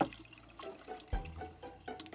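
Water spurts and splashes from an RV water line while air is bled out, with irregular gurgles, sputters and knocks rising and falling close by.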